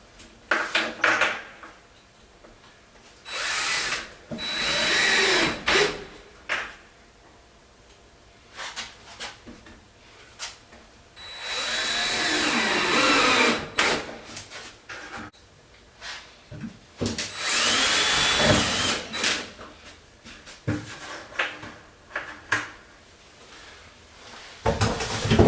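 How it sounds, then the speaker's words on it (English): A power drill drives screws into drywall in short, uneven bursts of whirring and grinding, mixed with scraping and handling knocks of the boards, close by with quieter gaps between. "these drywall pieces are just screwed in place as you would typically screw in drywall"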